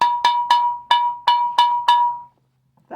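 A plastic bottle pressurized to about 60 psi, made into a homemade bottlephone, is struck with a stick seven times in a quick, slightly uneven rhythm. Each hit rings out with a clear cowbell-like pitch, and the last one fades into silence.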